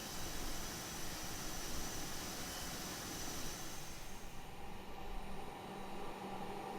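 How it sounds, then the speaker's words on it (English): Cabin ambience in a Flight Factor A320 simulator: a faint, steady rushing hum of airflow. Partway through, the airy hiss thins and drops as the blower is switched off, leaving a lower, quieter drone. "I'm gonna go ahead and turn off the blower."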